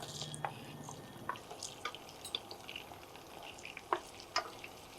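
Soft crackling and sizzling of small onions frying in oil in a pan, with quiet scattered pops and light stirring, fairly faint and close.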